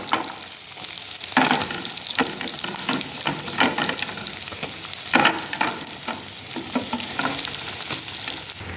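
Onion sizzles in hot sesame oil with mustard seeds and urad dal, a steady frying hiss broken by bursts of stirring scrapes, close and with no one talking.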